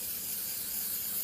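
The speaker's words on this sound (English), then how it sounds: "We're going to get this glue and spray some of the glue onto this" Spray adhesive glue hisses steadily from a can onto cardboard, a continuous close airy spray lasting about a second with no voices.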